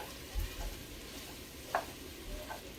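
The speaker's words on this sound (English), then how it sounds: "Let's get this sausage in here. Okay. Getting that all broken up." Sausage fries in a pan for dirty rice while being broken up, a quiet steady sizzle with a few soft scraping knocks from the utensil and no talking.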